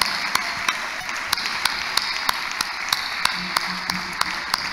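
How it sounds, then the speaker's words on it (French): Steady applause from a church congregation, a dense continuous wash of clapping with regular sharp taps standing out, fairly close. "applaudissons encore"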